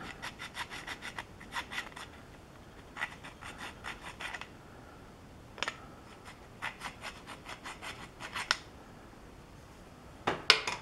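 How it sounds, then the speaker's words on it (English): Square file rasping across metal surfaces to roughen them, in bursts of quick repeated strokes separated by pauses, close and moderately loud, with a sharper scrape near the end. "a square file and just kind of go in and just mangle up these surfaces"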